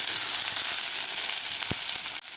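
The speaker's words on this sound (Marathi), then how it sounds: "एक मिनिटभर मी कांदा परतून घेतलेला आहे" Chopped onion sautéing in a pan for bajra khichdi, a steady broadband sizzle close up with a brief clink near the end, no talking.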